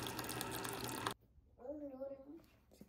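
Grapes washed under a kitchen tap, a loud steady rush of running water for about a second that cuts off abruptly, followed by a voice talking.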